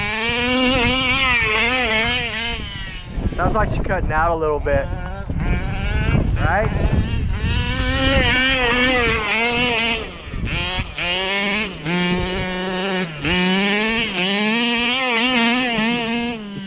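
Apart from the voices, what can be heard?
boat engine with RT 990 carburetor cutting out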